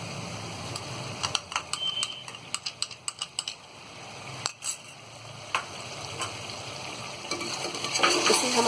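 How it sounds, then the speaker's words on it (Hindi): Mutton frying with ground tomatoes in a dhaba-style bhuna gosht, stirred with a spoon. Soft steady sizzle runs throughout, broken by a string of sharp clicks and scrapes from the stirring, close and moderately quiet. "इसे हम अच्छी तरह टमाटरों को मिक्स कर देंगे और 1 से 2 मिनट हम इसे भून लेंगे।"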